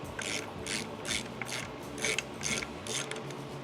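A ratchet cinching down the alternator mount on a Mustang during installation of a Tuff Stuff 7068K alternator, giving repeated bursts of close, rapid clicking at a steady rhythm with low mechanical rumble beneath.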